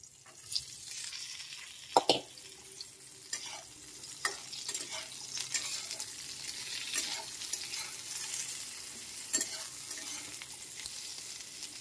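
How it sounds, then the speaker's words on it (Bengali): Ridge gourd, vegetable stems and green chilli fry in a pan alongside already-fried potato and pointed gourd, giving a soft, continuous sizzle broken by occasional sharp spoon clicks as they are stirred. "এবার আমি দিয়ে দেবো এই যে ঝিঙে, ডাঁটা আর কাঁচা লঙ্কাটা"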